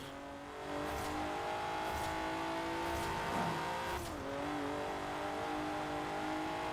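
A twin-turbocharged 3.6-litre car engine with Garrett T25 turbochargers drives through Great Britain in Forza Horizon 4, a steady, fairly quiet drone that shifts pitch midway with a brief tyre squeal, no voices heard.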